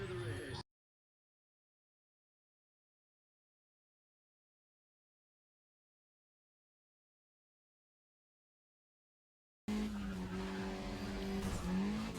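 A car skidding and crashing in the racing video game NFS ProStreet, with engine roar and tire noise after a long silent gap.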